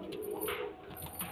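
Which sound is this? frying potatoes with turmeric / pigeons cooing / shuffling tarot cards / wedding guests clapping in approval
pigeons cooing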